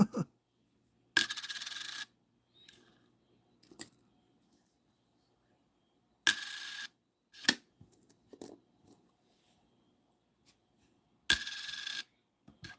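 Copper pennies clink and drop onto a pile in several sharp, bright bursts, with scattered lighter taps and handling clicks between them, close up in a quiet room with no talking.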